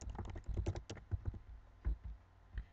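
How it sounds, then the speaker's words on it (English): Fingers type a name on a computer keyboard as a quick, irregular run of close clicking keystrokes that bunch up and then pause, heard alone at low volume. "I'm just going to type in my name"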